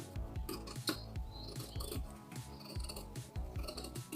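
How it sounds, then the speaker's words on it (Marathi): Scissors snip away an excess strip of fabric at close range, with rapid, rhythmic crunching cuts repeating throughout and no talking. "ही जास्त निघालेली पट्टी आपण कट करून टाकतो"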